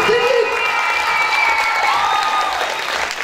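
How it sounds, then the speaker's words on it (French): A live show audience applauds loudly and continuously, with cheering and shouting voices mixed into the crowd noise throughout. "Donc on peut applaudir très fort, je pense."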